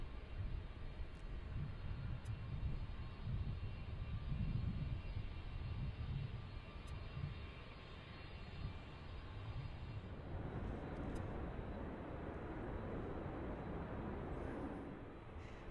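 A jet airliner passes at Cincinnati airport, its steady loud engine roar filling the scene and shifting in tone partway through as it goes by at a distance.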